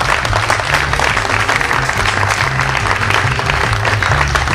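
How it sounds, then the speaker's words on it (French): Audience applause at a breakdance battle final, loud dense clapping and crowd noise over a thumping music beat with steady low bass, continuous for the whole stretch. "Moi, je vous applaudis franchement"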